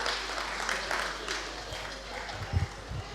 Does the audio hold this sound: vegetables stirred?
no